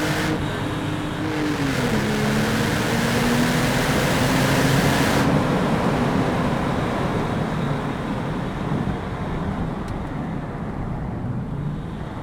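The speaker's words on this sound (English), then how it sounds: "let's experience it changing the gears naturally." A Porsche 911 Turbo of the 997.1 generation with the Mezger engine accelerates through its gears, a continuous loud engine roar heard from inside the cabin, with pitch rising and dropping at gear changes.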